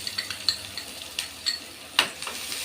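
Onions fry in hot oil with a constant hiss, punctuated by rhythmic taps and scrapes of a spoon stirring the pan.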